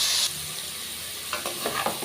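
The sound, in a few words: bitter gourd frying in oil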